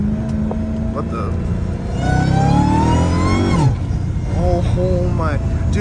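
Supercharged engine of a Dodge Hellcat Redeye revs hard from inside the car, rising whines sweeping up through the clip and a loud surge midway, with a voice speaking over it.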